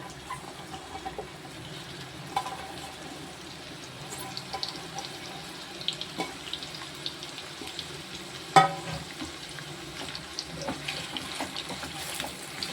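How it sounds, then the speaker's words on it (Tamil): Pirandai (adamant creeper) sautés in oil in a pan, giving a faint, continuous sizzle with scattered clinks and scrapes of stirring, and one sharper knock near the middle. "அதுக்கு பிரண்டு இலை போடுவோம். இதை போட்டு நல்லா வதக்கிக்கிறணும்."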